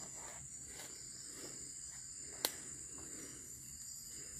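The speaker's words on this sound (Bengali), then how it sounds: "অনেক সময় ঝিঝি পোকারও এক ধরনের ঝিঝি পোকার শব্দ আছে, নুপুরের মতো শোনা যায়।" Night crickets chirp faintly and steadily from a distance in a quiet outdoor setting during rain, with a brief sharp click partway through and no voices.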